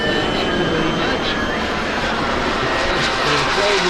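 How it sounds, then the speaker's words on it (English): Jet aircraft passing at the Irene Radio Flyers air show 2025, a steady broad engine roar holding loud throughout with rising hiss near the end, while a commentator talks over it. "He'll slow the jet down"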